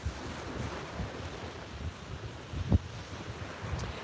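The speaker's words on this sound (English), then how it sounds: "So we've got really strong waves" Strong Gulf of Mexico waves wash steadily onto the beach at sunrise, a faint continuous surf rush with wind buffeting the microphone and one sharper thump near the end.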